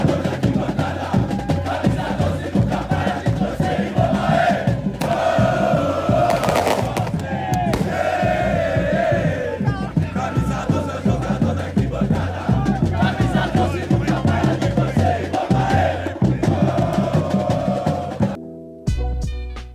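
Corinthians' Camisa 12 supporters fill a football stadium with loud, sustained massed chanting and singing, drums pounding underneath and the crowd roaring throughout before a sudden cut at the end.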